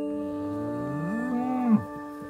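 A dairy cow gives a single close, loud moo that starts low, rises in pitch, holds briefly and then drops off abruptly.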